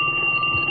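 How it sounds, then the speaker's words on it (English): A telephone ringing at a radio show studio, a steady electronic ring sounding continuously and fairly loud throughout, with no talk over it. "Hold on, we got the phone ringing."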